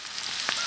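Cooked rice is stir-fried with cabbage in a wok for a Guizhou-style egg-wrapped rice dish, producing a steady hiss of frying with a couple of faint scraping stirs.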